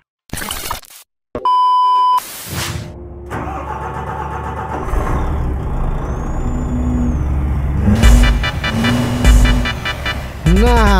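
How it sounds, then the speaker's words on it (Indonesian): An old Mitsubishi Kopra truck engine is started after a few beeps and a hiss of air. It cranks, catches and then settles into a loud, rumbling idle close by, with no talking. "hidupkan mesinnya, kita OTW ambil trailer gandingannya"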